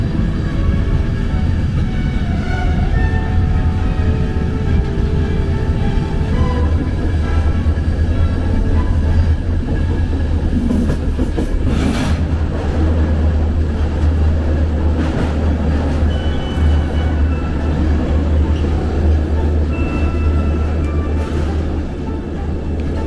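A train rolls steadily across the bridge over the Danube in Bulgaria, with a loud, continuous low rumble and rail noise throughout, heard from inside a carriage with no talking.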